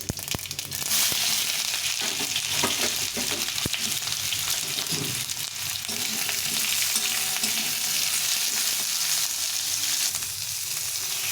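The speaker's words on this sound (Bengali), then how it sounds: "সর্ষের সম্বার দেবো দিয়ে কামরাঙাটাকে একটু ভেজে দেবো" Star fruit frying in mustard oil with a mustard seed tempering gives a loud, dense, continuous sizzle and crackle close up, steady throughout with faint stirring underneath.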